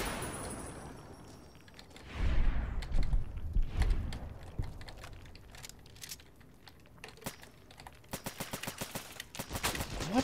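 A rock man enemy in Fallout: New Vegas opens fire, rapid rattling bursts of gunshots clustered near the start and again toward the end, mixed with impacts and crunching game effects.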